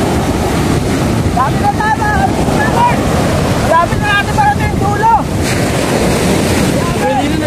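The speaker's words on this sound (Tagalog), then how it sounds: "Palakas na din ang palakas ang alon dito." Sea waves surge and wash at Soebod bay under heavy wind buffeting the microphone, with people talking over the constant roar of the surf.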